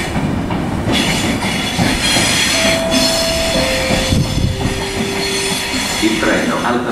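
A train rumbles steadily through Pisa Centrale station in Italy with a long metallic wheel squeal rising over the noise, while a public announcement voice echoes faintly in the background.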